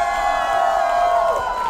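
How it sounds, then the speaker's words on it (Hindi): Wedding guests at a sangeet celebration in Goa cheer loudly, with a long high whoop that slides downward over a busy crowd din, while any clapping is buried underneath. "सबसे पहली बात हमारी ब्राइट के लिए जोरदार तालियां बजाइए"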